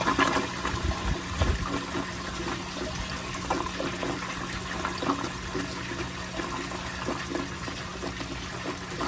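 A 1978 American Standard Glenco toilet, a 4.5 gallon-per-flush model, flushes with a steady rushing torrent of water that stays loud and close for the whole stretch, with a brief low gurgle near the start.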